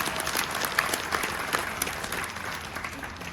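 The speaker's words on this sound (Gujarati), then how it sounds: "એકવાર એમના સન્માન માટે જોરદાર તાળી બજાવો" An audience claps for a speaker and his performing troupe on stage at a Gujarati Okhaharan story recital, a dense, lively round of applause that holds steady and fades slightly toward the end.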